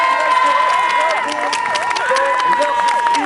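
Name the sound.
audience applauding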